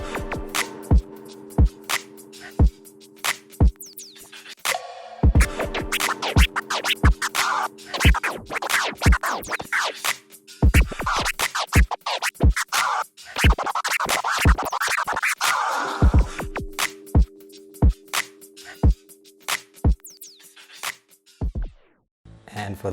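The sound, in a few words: DJ crossfader tear scratches over a beat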